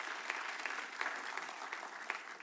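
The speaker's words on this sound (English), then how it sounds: "Please give them one more round of applause and encourage them." Applause at a city council meeting, a brief burst of steady clapping from the chamber, fairly faint and distant.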